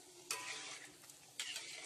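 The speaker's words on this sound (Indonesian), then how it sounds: "goreng tahu bulat apinya kecil aja, terus gorengnya sambil digoyang-goyang gini" Round tofu balls frying in oil over a low flame as the pan is shaken, a steady crackling sizzle with two louder bursts of agitation; no talking.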